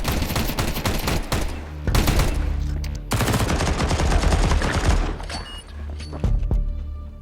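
Rapid rifle fire in Counter-Strike at an IEM Katowice match, loud bursts of automatic shots in dense clusters with brief pauses, close and punchy.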